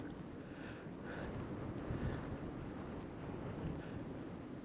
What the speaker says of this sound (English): Still pretty windy up here.